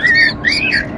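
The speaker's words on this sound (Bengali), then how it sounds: "এগুলো লুটিনো আছে, সব অ্যাডাল্ট পাখি আছে।" Adult lutino pet birds at a Sunday pet market in Serampore let out a run of loud, shrill squawks, three harsh close-up bursts packed into one second with faint crowd noise beneath.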